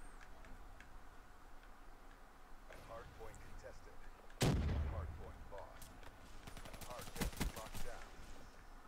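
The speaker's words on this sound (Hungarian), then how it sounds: "Ma megint lövöldözik a saját csapattársam rám." Gunfire crackles through a ranked Call of Duty Black Ops III match, with a loud blast followed by scattered shots and rapid bursts under a player's talk.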